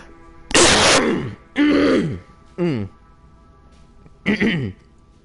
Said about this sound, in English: I'm gonna clear my throat, so you might want to turn your volume down.